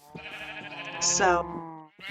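Sheep on a Minecraft survival server give a couple of wavering, nasal bleats, close and clear, while someone talks over them.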